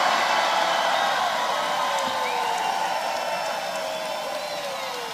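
A large crowd at a political rally in Tampa, Florida claps and cheers in a dense, continuous roar that slowly eases in loudness, with no voices standing out.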